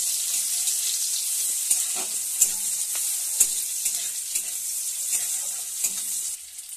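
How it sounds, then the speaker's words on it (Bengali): Chopped onion frying in a pan of spiced oil for a Bengali spinach curry, a steady loud sizzle throughout with repeated scraping knocks of a spatula stirring the pan. "পেঁয়াজ কুচি দিয়ে আবার ভালো করে নেড়ে নিচ্ছি।"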